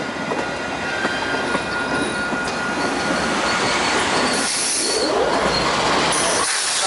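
VIA Rail passenger train 87 passing at speed, a loud, continuous rumble of rolling cars with clattering wheels and some high squeals, steady throughout.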